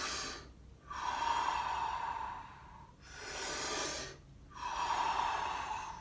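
A person breathes deeply through the mouth in a breathwork exercise, with two slow cycles of long hissing inhales and exhales separated by brief pauses, close and steady with no talking.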